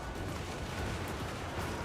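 Skull cannon artillery fires in a Total War: Warhammer battle, a dense, continuous rumble of booming shots and explosions blending into a steady wash of battlefield noise with no clear gaps.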